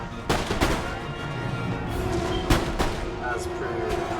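Cannon fire from Empire Total War, a Prussian army battle in the video game: a few sharp booms and bursts of gunfire over a steady battle din, with a voice talking over it.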